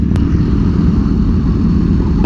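Motorcycles arriving at a large bike meet where a Kawasaki Ninja H2 was ridden: a loud, steady engine rumble and roar of passing bikes fills the whole moment without pause.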